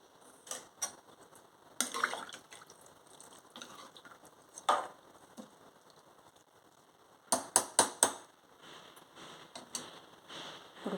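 A spoon stirs mutton keema pulao in a pot, giving faint intermittent scrapes and clinks with a soft sizzle underneath. There are a few clusters of quicker strokes near the end.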